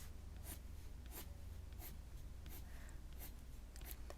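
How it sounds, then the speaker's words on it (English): Graphite pencil strokes tap and scratch on paper in short, evenly spaced bursts about every half second, close and quiet, with no talking. "I'm just setting the pencil down, straight up, and then working my way around."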